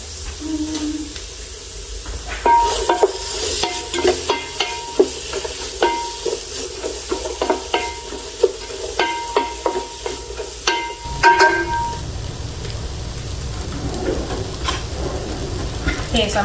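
Onions sizzling in ghee-free oil in a pan while being stirred for butter chicken, with repeated scraping and clinking of a utensil over a steady frying hiss, close and moderately loud, ending in a burst of louder sizzle.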